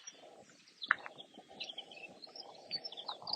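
Faint birdsong of robins in the UK, with several bright chirps and short phrases scattered over a quiet outdoor background on a morning walk.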